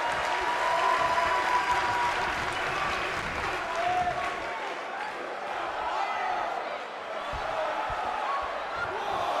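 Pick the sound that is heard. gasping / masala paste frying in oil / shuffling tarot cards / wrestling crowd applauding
wrestling crowd applauding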